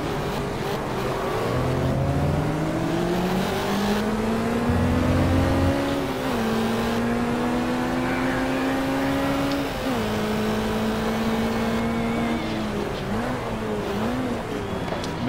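A TVR Griffith 400 racing in the video game GT Legends, its engine droning loud and steady throughout, pitch climbing under acceleration and dropping sharply at several gear changes.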